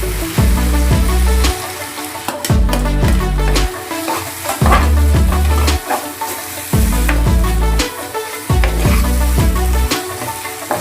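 Green peas tip into hot, sizzling masala in a pan for a matar paneer curry, producing a loud, steady crackling fry with rhythmic scraping stirs repeating throughout.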